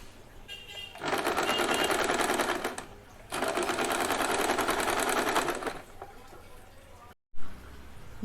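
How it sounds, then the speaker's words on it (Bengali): A sewing machine stitching a small cloth nappy for a Laddu Gopal idol runs in two long steady bursts of rapid mechanical whirring, close and loud, separated by a brief pause, then goes quiet before a short thump. "এই সেম প্রসেসে এইখানটাও কিন্তু আমি সেলাই করে নেব এইভাবেই"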